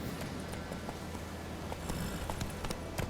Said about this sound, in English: Luckily, Geralt can always count on his horse Roach to help him travel.